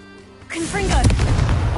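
Confringo explosive spell blast in Hogwarts Legacy, a loud booming burst landing about halfway through and rolling on with a dense rumble for the remaining second or so, with no talk over it.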